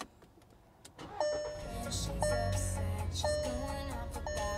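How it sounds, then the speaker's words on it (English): A small SUV's engine cranks and catches after a quiet pause, then settles into a steady idle as chimes and electronic tones from the dashboard ring out over it. "Attention, the engine is running."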